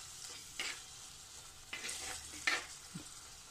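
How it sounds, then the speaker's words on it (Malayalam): Coriander powder and ginger sizzle softly in oil in a pan on low flame, a faint steady hiss with a few brief stirring scrapes, close but quiet. "ഈ മല്ലിപ്പൊടി, ഇത് എണ്ണയിലൊന്നായിക്കോട്ടെ."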